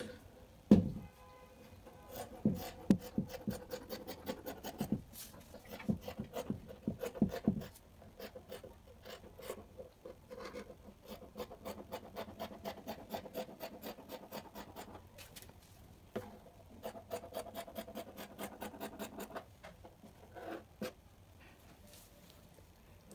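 Scissors cut out fabric pieces for an overall jumpsuit in a series of sharp, closely spaced snips and crisp rustles, with occasional thumps and pauses, close and fairly quiet.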